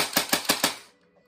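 A Golden Eagle M4 airsoft gun fires a quick burst of four evenly spaced sharp snaps on full auto, followed by a short fading tail.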